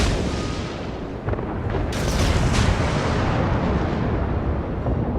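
Naval guns fire in World of Warships, a loud heavy booming blast around the two-second mark followed by a long rumbling roar of battle noise, with no talk over it.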